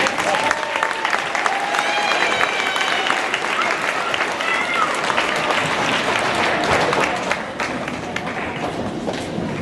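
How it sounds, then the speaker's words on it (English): A school spring concert audience claps steadily after a band piece, a dense, sustained wash of applause lasting several seconds before tapering slightly near the end. "another nice round of applause, you guys"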